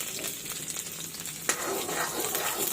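Onion frying in hot oil gives a steady, fairly faint sizzle with a brief sharp hiss midway as it is stirred, no voices over it.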